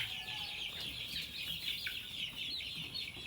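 A flock of young male Barred Plymouth Rock chickens cluck and murmur fairly softly in a farm pen. Short calls overlap one another, with no talking.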